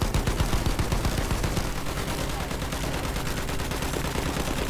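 Dense gunfire in Battlefield 1 rattles without a break, loud, close machine-gun bursts and overlapping shots forming a constant barrage with booming impacts underneath.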